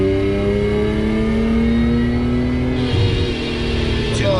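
A car accelerates at half throttle across a weak bridge. Its engine note climbs steadily, loud and close, then shifts and settles as it continues.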